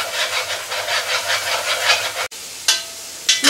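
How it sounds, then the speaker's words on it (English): Tomatoes for a Cajun chicken spaghetti simmer and sizzle in a pan, giving a steady, close, fairly loud hiss with soft pulsing bubbles. A brief cut follows, then quieter sizzling with a few sharper bursts. "we've been sauteing, reducing, simmering the tomatoes down until they're barely recognizable as their former selves"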